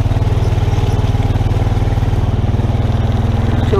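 A two-wheel-drive vehicle with worn tires churns through the muddiest stretch of a trail, its engine droning steadily and close with a throbbing, even pulse throughout and no talk over it.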